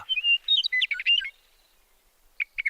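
Cartoon bird chirps and tweets, bright and close, in a quick run of calls over about a second and a half, then a pause and a few more short chirps, with no talk.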